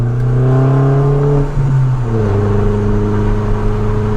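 A 2008 MINI Cooper S John Cooper Works with nearly 240 horsepower accelerates hard, its engine note climbing loud and close, dipping briefly at a gear change before pulling up again.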